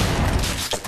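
A shotgun in the block-building shooter Ace of Spades fires a single loud, dense blast that fills the whole moment, followed by a short burst of crackling decay.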